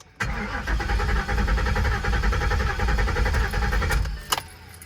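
Supercharged Roush Ford Mustang S197 being cranked over, its starter churning steadily for about four seconds without catching, with a faint jangle of keys and a brief click at the end.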